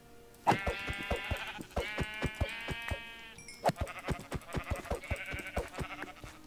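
Sheep bleating in Minecraft, several short wavering bleats over a background of sharp rhythmic clicking and tapping game sounds, fairly quiet with no talk.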